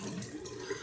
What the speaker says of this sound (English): I have to leave the tap running a little bit longer to get it to this ice cold levels